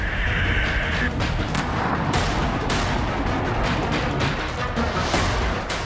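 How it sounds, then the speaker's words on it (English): A Kinzhal hypersonic air-launched cruise missile strikes an underground weapons depot, heard as a loud, dense rumbling roar broken by several sharp blasts and crashes spread through the few seconds. "the Kinzhal hypersonic air-launched cruise missile, seen here smashing into a Ukrainian underground weapons depot"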